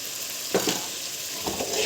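Tomato puree frying in a pan of fish gravy, producing a close, continuous sizzle with a couple of brief stirring scrapes.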